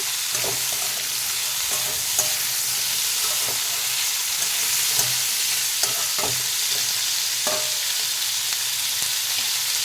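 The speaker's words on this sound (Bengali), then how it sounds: "কেটে রাখা সরু সরু করে আলুগুলো দিয়ে দেব। ভালো করে নাড়িয়ে নেব।" Potatoes fry in a pan with a steady, loud sizzling hiss while a utensil stirs and scrapes the pan at irregular moments.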